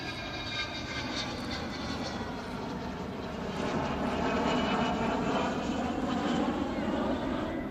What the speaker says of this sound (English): nobody thought we'd ever see a Vulcan flying again